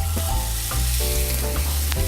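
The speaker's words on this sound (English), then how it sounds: "So now we put the meat on the pan." Meat hits a hot pan of olive oil and sears with a loud, steady, crackling sizzle, heard close up and continuous with no voices.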